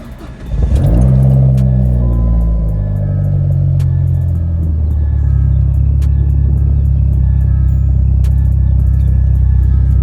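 A car engine cranks and catches, then revs up loudly before settling into a steady, strong rumble.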